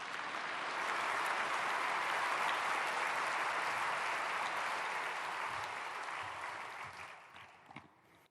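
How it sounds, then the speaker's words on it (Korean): Sustained audience applause welcoming a guest speaker at a Korean prayer gathering for peaceful reunification, steady and dense for most of the stretch, then thinning and tapering off toward the end. "안찬일 박사님, 우리 박수로 환영해 주셨으면 좋겠습니다"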